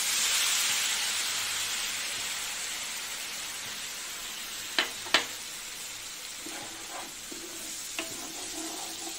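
A spice paste of onion, garlic, ginger, tomato and green chilli for prawn malai curry fries in a pan with a continuous close hiss and sizzle, a few sharp spoon knocks and light stirring scrapes over it, no talk.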